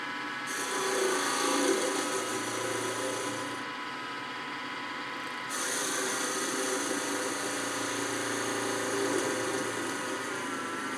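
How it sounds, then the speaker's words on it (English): A wood lathe turns a sea urchin ornament blank while a 3/8 inch spindle gouge cuts away tailstock damage, giving a steady scraping hum with a constant motor whine that briefly drops out and resumes. "I switched to a little bit smaller spindle gouge, my preferred size, 3/8 inch, and I'm going to get rid of that little damage from the tailstock"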